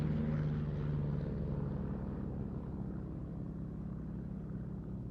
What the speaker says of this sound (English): Here a final pass in the missing man configuration with the Yak pulling up and a wing rock by the Chipmunk